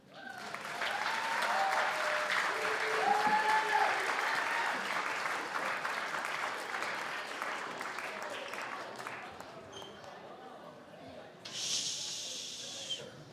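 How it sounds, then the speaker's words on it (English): An audience at a school ceremony honoring Hannah Senesh breaks into sustained applause that builds quickly, holds, then gradually fades, ending with a short burst of hiss. "Oh, you can applaud."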